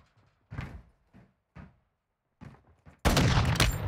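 Sniper rifle fire in a video game, preceded by a few brief scattered clicks and thuds, then a loud sustained burst of shots erupting at the end.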